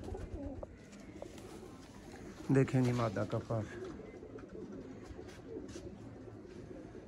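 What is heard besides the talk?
Sialkoti pigeons cooing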